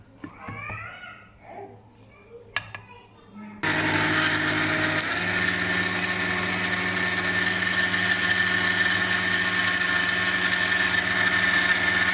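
Panasonic MX-AE475 blender switched on after a child babbles in the background, its motor then whirring loud and steady for several seconds close by.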